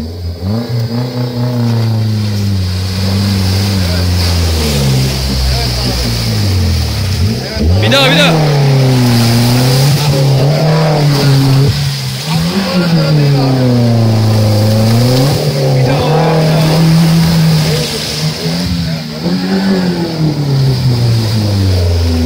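A Suzuki Jimny's engine revs hard while off-roading on mountain tracks at Dağyenice, Bursa, Turkey, rising and falling in loud, close surges. People talk over the engine.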